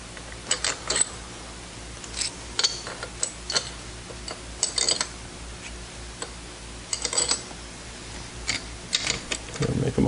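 Base bolts threaded in by hand during a rebuild, giving sharp metallic clicks and ticks in irregular bursts over a quiet background.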